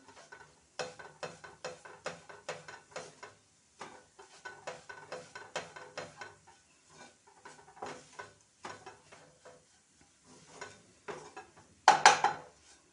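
Gram flour (besan) roasting in a pan while a spatula presses and scrapes it, making a rhythmic run of soft scraping strokes with quiet gaps, then a sharper metallic clatter near the end.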